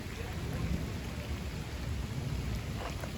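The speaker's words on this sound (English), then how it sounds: "It is still raining a little bit" Steady light rain falling around a porch and garden after a big June storm, a dense even patter with low rumbling wash beneath, close and constant, no one speaking.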